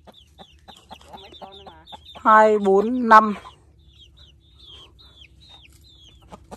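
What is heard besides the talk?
chickens clucking in a coop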